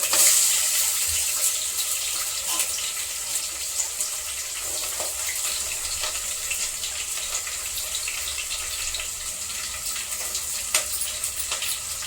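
Water runs into a pan of ridge gourd curry with curry leaves, making a continuous soft hiss with light sizzling, and no voices.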